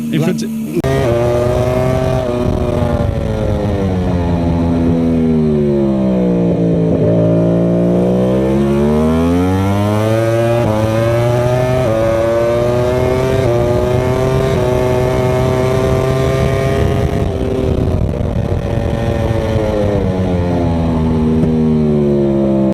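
MotoGP race motorcycles, Ducati, Honda, Yamaha and Suzuki, scream along a racetrack straight, engines loud and close, pitch sweeping down on a downshift then climbing again under acceleration, with race commentary talking over them.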